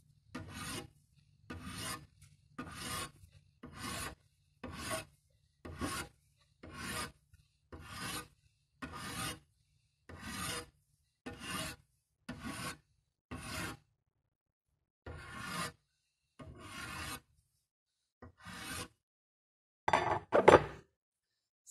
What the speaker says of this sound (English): So now you can see the part of the metal where I filed.